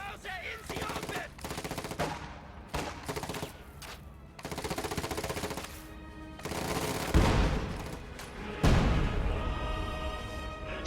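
An MG-34 machine gun firing bursts in a WWII strategy video game, with rattling volleys and other gunfire crackling amid heavy booms of battle, all dense and continuous with no talking.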